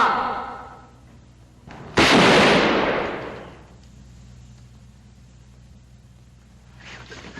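A gunshot rings out in a 1946 film: one loud, sharp report followed by a long reverberant tail that fades over about a second and a half, then quiet room tone.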